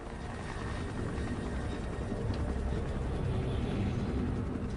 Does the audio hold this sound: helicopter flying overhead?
yes